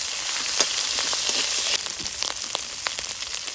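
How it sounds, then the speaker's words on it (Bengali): Chopped tomatoes and ground ginger dropped into hot oil with five-spice tempering for a vegetable dal: a loud, steady sizzle that drops suddenly as the wet ingredients go in, followed by softer crackling and stirring scrapes. "এইবারে কেটে রাখা টমেটোগুলো দিয়ে দেবো।"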